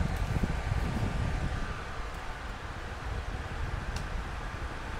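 A Hifresh tower air cooler runs with its fan on speed 3, giving a steady broadband whoosh that is a little louder at the start and then settles to an even, moderate rush, with no voices.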